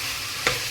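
Tomatoes and onion sauté in a pan, a steady soft sizzle with one brief stirring scrape near the end, close by and heard alone.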